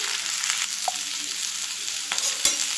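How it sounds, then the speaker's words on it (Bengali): Flat beans fry with potatoes in a pan while being stirred, a continuous close sizzle punctuated by a few scraping spatula strokes, no voices. "শিমটা দিয়ে নেড়ে দিলাম একটু এটাও একটু হালকা ভাজা হয়ে আসুক"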